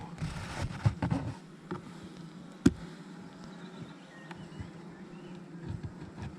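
Honey bees buzz at a hive frame during queen rearing, a soft continuous hum with a few sharp knocks and handling thumps, close by with no talking.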